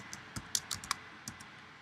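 A computer keyboard clicks under quick typing as a page title is entered in WordPress, several sharp irregular keystrokes spread over nearly two seconds, close and fairly quiet with no voices.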